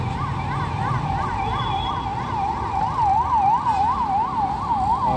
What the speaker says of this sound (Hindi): आगे से एम्बुलेंस भी जा रही गाइस